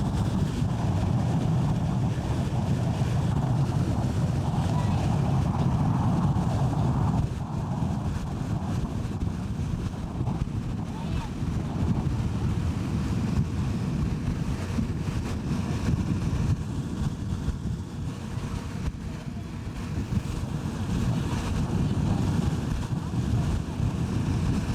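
Strong wind buffets the microphone with a constant loud roar in the mountains of Jotunheimen National Park, gusting slightly throughout.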